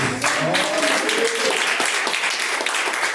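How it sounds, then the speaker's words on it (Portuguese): Congregation clapping during a live church service, a dense steady wash of applause filling the space, with faint voices and tonal sounds mixed in underneath. "Palmas para o nosso Jesus."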